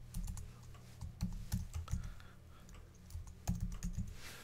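Computer keyboard typing in quick irregular bursts of clicks, close and fairly quiet, with short pauses between runs of keystrokes and no talking.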